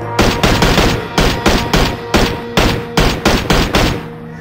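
Automatic gunfire in the PUBG video game rattles out in loud, rapid bursts, roughly a dozen short volleys separated by brief pauses, close and dominant with no talking.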